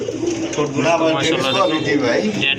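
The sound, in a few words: red pigeon cooing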